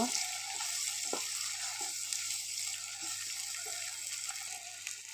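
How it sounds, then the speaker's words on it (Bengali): Bay leaves and garam masala fry in hot oil with ginger and garlic paste for a mutton bhuna, giving a steady close hiss with a few faint stirring taps underneath. "গাছের তেজপাতা গরম মশলা একটু হালকা ভেজে নেব"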